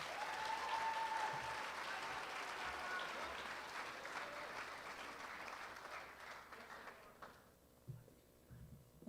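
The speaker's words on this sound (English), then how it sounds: "Give Vera another round of applause." Applause for a student speaker at a school presentation, a dense steady clapping from an audience that gradually thins and fades toward the end, with faint voices surfacing as it dies away.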